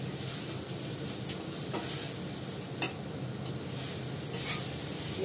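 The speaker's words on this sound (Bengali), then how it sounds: "এবার আমি নাড়াচাড়া করবো, গ্যাস কমানোই আছে" Flattened rice (chire) being stirred in a pan over low gas, a steady soft scraping with faint frying sizzle, plus a few sharper clinks of the spoon against the pan, close and without talk.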